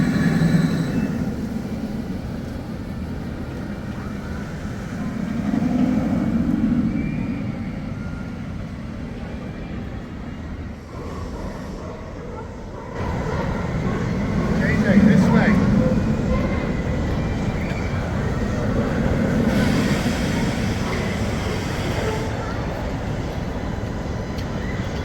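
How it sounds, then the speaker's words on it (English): Penguin Trek roller coaster trains at SeaWorld Orlando, under construction and running test runs with three trains, rumble past in repeated loud swells of wheel roar, with brief talk. "So many trains flying by."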